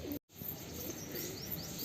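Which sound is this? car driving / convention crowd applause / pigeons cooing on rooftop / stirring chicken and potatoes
pigeons cooing on rooftop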